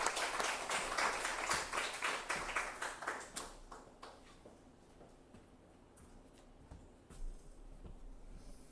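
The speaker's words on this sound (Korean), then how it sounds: "따뜻한 박수로 모시겠습니다." A congregation at a Wednesday church service claps, the dense applause tapering into scattered, quieter individual claps and faint room noise.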